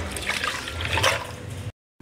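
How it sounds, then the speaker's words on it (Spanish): Drinking water pours into a ginger and lemon drink made with sugar and lemon juice, a steady close liquid trickle and splash that runs for most of the clip before cutting off abruptly. "Vamos a utilizar un poco de agua de tomar"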